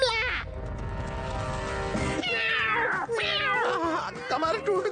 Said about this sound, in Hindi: मेरी बिल्ली मुझे पे म्याऊं।